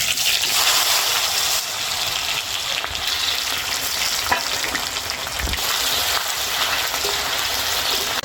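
Chopped onion hits hot mustard oil with tempered whole spices, setting off a loud, continuous sizzle and crackle, with a few clinks of a utensil stirring the pan.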